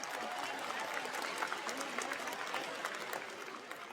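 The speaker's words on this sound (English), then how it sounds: "Let's give them a round of applause." Sustained applause from an audience at the Hunters Lane 2023 high school graduation ceremony, a dense, even clatter of many hands filling the whole stretch at steady loudness.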